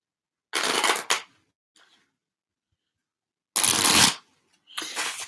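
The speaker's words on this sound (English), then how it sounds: "Let me shuffle." A deck of cards being shuffled up close in two loud bursts of riffling, each lasting about half a second to a second, separated by near silence.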